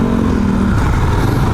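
Dense traffic of many cars and vehicles around a crowded parking area at a Philippine LTO office, a loud continuous rumble of engines with a low idling drone and no voices.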